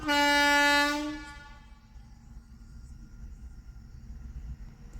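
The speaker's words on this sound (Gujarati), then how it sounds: "જે આવે જ છે રેલવે" At a closed railway crossing, a train's horn blasts loudly for about a second. It gives way to a low, steady rumble as the train rolls past, with no voices.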